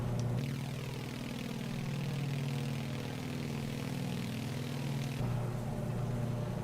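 A propeller aircraft engine drones steadily through a climb in a flight simulator, throttled back to 25 inches of manifold pressure and 2100 RPM, giving a constant, even hum with a slight shift near the end.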